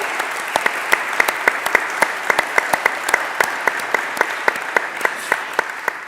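A church congregation claps in welcome for the organist, a steady spread of applause with distinct sharp individual claps standing out, sustained and fairly loud across the whole stretch.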